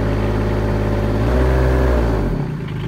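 A Bobcat E20 mini excavator engine runs loud and close, its throttle changing pitch midway through, then the revs drop off toward the end.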